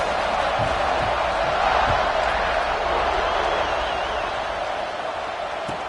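Football stadium crowd in an NCAA college football game just before kickoff, a continuous loud wash of crowd noise that swells slightly midway, with a few faint thumps and a commentator's voice underneath.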